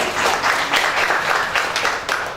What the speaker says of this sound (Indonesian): Dan tepuk tangan dulu dong buat Anda semuanya.